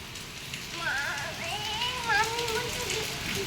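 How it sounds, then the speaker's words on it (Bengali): Heavy rain pours during a storm, a dense steady hiss that runs throughout while people talk over it. "ঝড় হচ্ছে কিন্তু, দেখো জোরে জোরে বৃষ্টি হচ্ছে, ঝড় হচ্ছে।"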